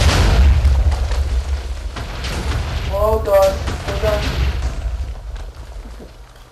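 Minecraft redstone chaos cannon explosions, a dense, loud rumbling barrage of booms rolling continuously, with a voice exclaiming over the blasts.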